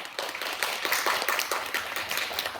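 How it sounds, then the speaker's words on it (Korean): Audience applause in a school multipurpose auditorium for two debate teams after the final round of a public forum debate, a steady dense patter of many hands clapping at moderate level throughout. "열띤 토론 보여준 두 토론팀들에게 큰 박수 부탁드립니다"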